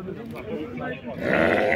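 Lambs bleat nearby, their wavering cries overlapping with a person talking over them.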